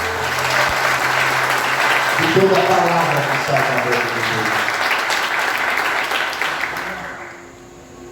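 A church congregation applauds through most of the clip, loud sustained clapping carrying on under a preacher's voice before tapering off near the end.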